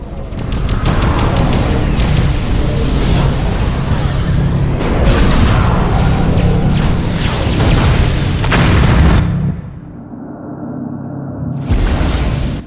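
An enemy flagship blows up in the space game Infinite Galaxy: loud, sustained booming blasts and crashing debris roll on for several seconds, then cut to a muffled low rumble before a final burst of noise.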